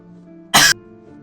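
A single short, sharp sneeze bursts out close to the microphone, lasting about a quarter second against quiet background sound.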